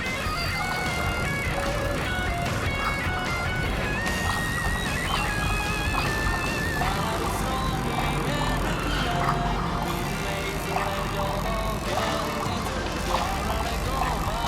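A busy, continuous electronic toy sound effect with warbling tones and whirring, loud and steady throughout, from a spinning DX Onkaku Kamen Rider Hibiki transformation toy.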